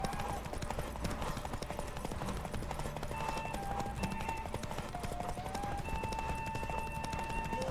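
Roach, a horse in The Witcher 3 video game, gallops steadily at speed with a rapid, continuous clip-clop of hooves under a layer of game music and ambience.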